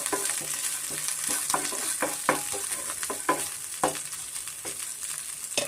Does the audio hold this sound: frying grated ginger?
yes